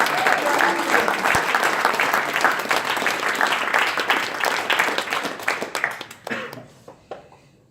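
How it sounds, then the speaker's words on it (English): Loud, sustained applause from a large crowd that gradually thins out into scattered claps toward the end. "Let's give them a huge round of applause and thank them for everything."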